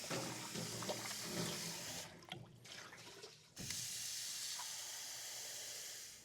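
On a farm, water from a tap rushes into an animal's water container, a steady hiss that drops off briefly in the middle before the flow resumes and continues evenly.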